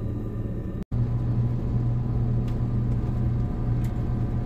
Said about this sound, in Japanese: 対向列車がやってきました。